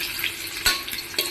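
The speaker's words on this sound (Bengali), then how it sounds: "আলুটা লাল লাল ভাজা হয়ে গেছে।" Potatoes frying in a pan until reddish-brown give a steady broadband sizzle, with a couple of sharper stirring scrapes standing out, close and fairly quiet.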